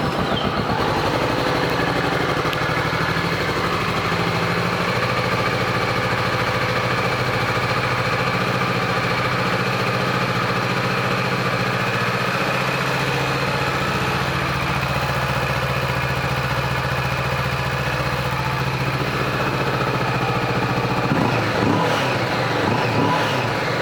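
A 2015 Kawasaki Vulcan 650S motorcycle engine runs continuously close by, holding a steady idle with a dip in pitch partway through and a slight rev near the end, with no talk.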